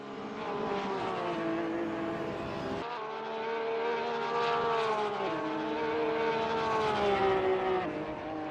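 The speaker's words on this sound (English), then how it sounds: "We drive cars in sim racing land." Porsche Cup race cars roar through a sim racing game round at Bikernieki Circuit, their engine notes rising and falling steadily and loud for the whole stretch, with no talk over them.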